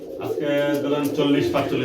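Pigeons coo in low, throaty rolls close by at a pigeon farm in Bangladesh, mixed with a voice talking over them.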